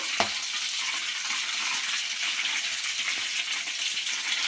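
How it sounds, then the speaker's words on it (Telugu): Chicken pakoda deep-frying in hot oil gives a steady, dense crackling sizzle that stays loud and even throughout, with one sharp tap near the start and no voices. "ఆయిల్ అనేది వేగిపోతుందండి చాలు మనకి"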